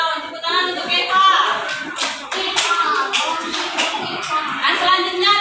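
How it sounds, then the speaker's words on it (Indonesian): A classroom claps for a student in an uneven round of applause. Sharp individual claps from several people stand out among children's voices talking over them. "Tepuk tangan untuk Eva."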